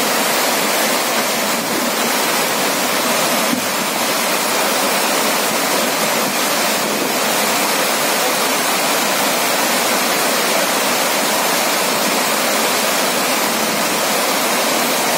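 Water overflows the Aji dam spillway in Rajkot as a continuous loud rushing roar, like a broad waterfall, steady and unbroken throughout with no voices.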